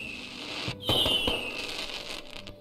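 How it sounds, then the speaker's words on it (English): Fireworks explode in the video game Black Skylands, a sharp crackling burst followed by a sizzling whistle and a steady fizzing roar that trails off. "Blow up those fireworks."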